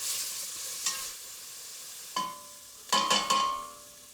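Finely minced onions with a little salt cook in a pan, a soft low sizzle broken by several bright metallic scrapes and clinks of a utensil against the pan, close and fairly quiet.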